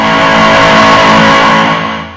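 Electric guitar played through a small Ibanez IBZ10G practice amp with heavy overdrive, a loud, thick distorted chord ringing out briefly and then fading at the end.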